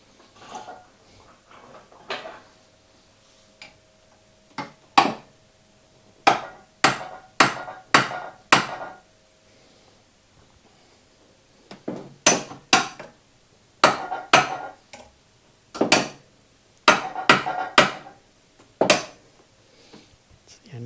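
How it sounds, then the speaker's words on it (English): Metal hammer blows strike a car engine mount during removal of an NA engine. The sharp, ringing clanks come in irregular bursts, with brief pauses between groups of strikes. "I feel like I need the hammer on this one."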